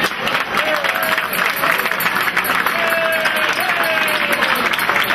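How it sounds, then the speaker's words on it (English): Sustained applause from a Democratic Party Jefferson Jackson dinner audience on Cape Cod, a steady dense wash of clapping with crowd noise and a few faint voices and whistles mixed in throughout. "give yourselves a big round of applause"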